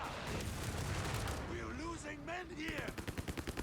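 Rifle fire from riflemen fighting in the video game Company of Heroes 3, rapid shots crackling at a distance under a caster's talk, ending in a quick rhythmic burst.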